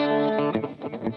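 Electric guitar played through heavy reverb and effects such as distortion and chorus, with sustained harmonic chords giving way to a few choppier strummed notes, all at steady, fairly loud level.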